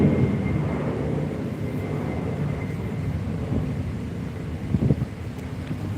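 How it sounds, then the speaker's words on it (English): Loud airplanes flying overhead: a continuous low, broad roar with wind-like rumble filling the whole stretch, steady and close without any talk. "If you can hear the airplanes flying over"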